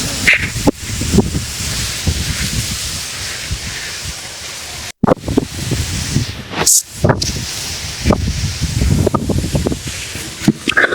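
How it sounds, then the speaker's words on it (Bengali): Wind gusting through a field of ripe, drooping rice plants ahead of a coming storm, a rushing rustle with loud buffeting against the microphone, rising and falling in bursts and broken by a few sharp dropouts. "ঝুড়ি ঝুড়ি ভাব ধানের গাছগুলো একবারে ঝুলতেছে বাতাসে"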